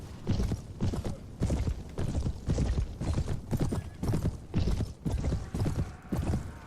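Horses' hooves clopping in Mount & Blade: Warband, a rapid rhythmic gallop of many mounts thudding steadily and close, with no voices.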